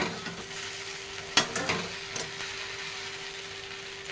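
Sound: okra being sautéed and stirred in a pan

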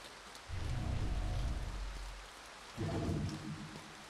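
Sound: rain falling in video game To the Moon

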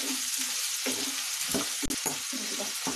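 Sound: chopped onions frying in a pan

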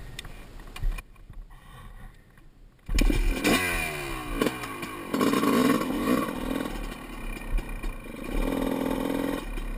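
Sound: dirt bike riding on FMX track

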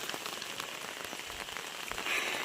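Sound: heavy rain falling

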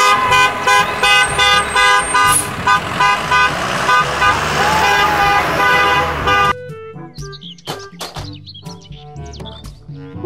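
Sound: school bus horn honking, from a toy vehicle video

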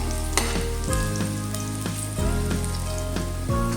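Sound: frying meat until golden brown

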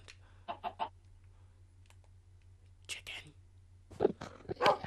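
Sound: chicken clucking in Minecraft video game

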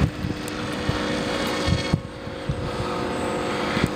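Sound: Skywalker RC plane flying on one motor

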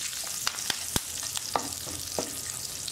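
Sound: asafoetida, cumin and curry leaves sizzling in hot oil

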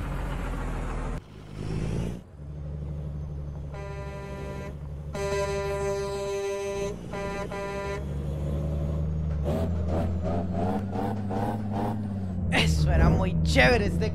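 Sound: dump truck engine revving in American Truck Simulator video game

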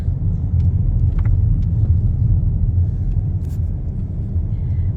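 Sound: car driving on road

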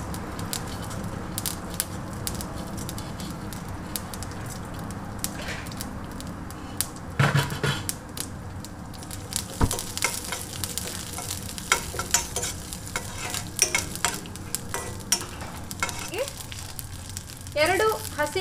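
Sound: tempering mustard seeds and urad dal in oil

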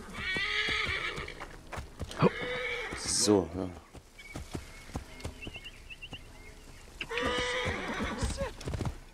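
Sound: horse neighing and hooves in video game

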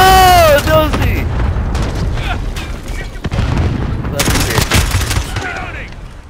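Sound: gunfire in the video game Modern Warfare

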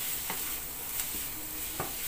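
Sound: stir-frying carrots in a pan

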